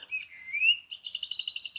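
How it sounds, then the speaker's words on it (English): Small birds chirping outdoors, a clear whistled song with a long sliding note followed by a quick run of repeated high chirps, close and distinct with no voices. "Sounds of chirping birds."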